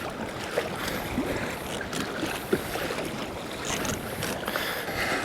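Steady wind blows across open water around a fishing kayak in rough, swelly conditions, a broad continuous rush with occasional small splashes and knocks.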